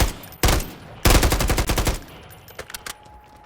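Warzone gunfire: a single loud shot, then a long rapid automatic burst of evenly spaced close shots, followed by fainter scattered distant shots.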